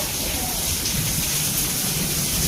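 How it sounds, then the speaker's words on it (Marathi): Heavy rain pours in a steady, dense hiss that holds constant across the whole stretch, close and fairly loud, with a faint voice murmuring beneath it. "लय म्हणजे काय सांगायलाच नको असा पाऊस चाललाय"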